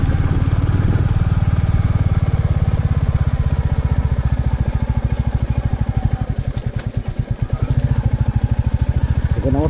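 A motorcycle engine runs in first gear down a sloping, partly off-road track with standing water, giving a loud, close, rapid thumping pulse that holds steady, dips briefly, then returns.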